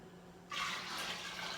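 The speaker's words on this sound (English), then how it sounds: "trying to get this to pour in here without making a huge mess" Beer wort pours into a Mr Beer plastic keg for a Northwest Pale Ale, starting abruptly after a brief pause and continuing as a steady, fairly loud rushing splash of liquid with no talking.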